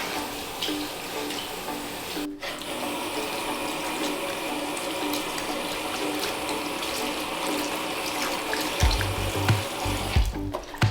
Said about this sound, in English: now it's time to rinse out as much of the liquid soap as possible, and then also squeeze out as much of the water as possible